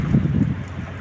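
Steady wind blowing across a microphone by the bay, a continuous low rumbling buffet with no voices.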